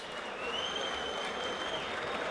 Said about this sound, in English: a round of applause for 2 true warriors